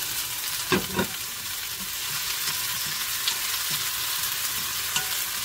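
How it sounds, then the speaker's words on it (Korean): Onions and chopped vegetables frying in a pan for tteokbokki at home, a steady close sizzle with a few sharp clatters of stirring near the start and scattered soft scrapes throughout. "Now Sonny is frying them"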